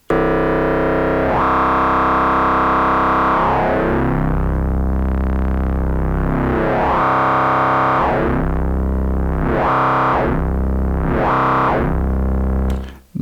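Heavy distorted bass from an Elektron Digitone II, a sustained buzzing tone whose level and brightness swell and fade in slow sweeps, then faster regular pulses, loud and alone.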